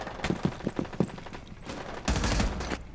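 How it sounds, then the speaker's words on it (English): Gunfire in an online competitive shooter match: a quick string of sharp shots, then a louder sustained burst of rapid fire near the end, no talk. "He hears gunshots"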